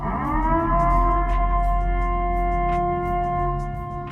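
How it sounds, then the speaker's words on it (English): A civil defense siren sound effect plays loud and close, its steady wailing tone holding level throughout with faint clicks on top. "I was playing the sirens"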